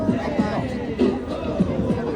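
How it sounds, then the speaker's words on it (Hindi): Bustling crowd at Dotonbori in Osaka near the Glico sign on a busy weekend, a steady murmur of many voices and footsteps with a person talking close by over the babble. "कितनी ज़्यादा क्राउड है"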